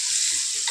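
Beaten egg poured into a hot pan on a home kitchen stove, giving a brief, steady, close hiss of sizzling with a faint spatter.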